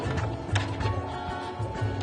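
Sewing machine running a back stitch on fabric, a quiet rapid mechanical clatter with a regular pulsing rhythm over two seconds.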